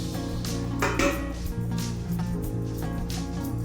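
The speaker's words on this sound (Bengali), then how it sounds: "এবার ঢাকনা দিয়ে ঢেকে দেবো, সেদ্ধ হতে দেবো" A metal lid is set onto a cooking pot of okra curry, giving a few light clinks and clatters over a steady low hum.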